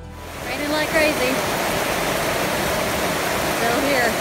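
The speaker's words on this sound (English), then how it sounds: "Raining like crazy." Heavy rain pours steadily outdoors on a farm, a dense, loud, unbroken wash of noise from start to finish.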